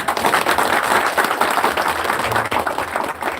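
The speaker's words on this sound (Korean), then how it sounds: "우리 다 같이 박수를 한번 하겠습니다" An audience at a labour union federation's founding assembly claps together, a dense, even burst of many hands at moderate loudness that holds steadily for a few seconds.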